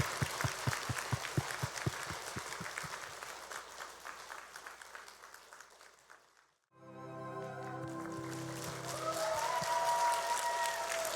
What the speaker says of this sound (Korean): 우리 어머니께 사랑의 박수